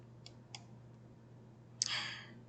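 A mouse clicks a software button: two faint, quick clicks followed by a louder click with a short rattle, heard close in a quiet room with no speech.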